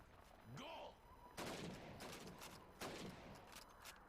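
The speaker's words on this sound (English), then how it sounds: "You have 15 seconds to shoot the helmets." Rifle shots fired at helmets on a training range in Call of Duty 2, sharp loud cracks spaced a second or so apart with echoing tails, after a brief whistle-like tone.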